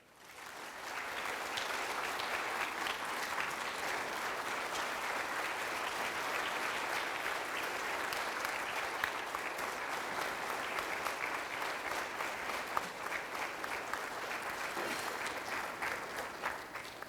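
Warm sustained applause from the crowd at the Ridgeland High School Hall of Fame ceremony for Coach Jack Mayo, steady dense clapping heard from a distance and held evenly for over fifteen seconds.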